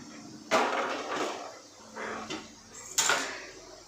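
A pot of rice set on the stove to cook, a few close metallic clanks and knocks of the pot and lid spaced over a few seconds.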